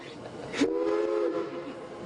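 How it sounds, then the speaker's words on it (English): A loud steam locomotive whistle, pulled by chain, blasts for about a second with a harmonic, slightly wavering tone, preceded by a brief hiss against background rumble. "How does one go about blowing the whistle?"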